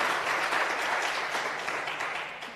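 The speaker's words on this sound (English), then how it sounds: "She deserves a round of applause." An audience at a youth empowerment event applauds, a dense, steady wash of many hands clapping that fades slightly toward the end, with no voices over it.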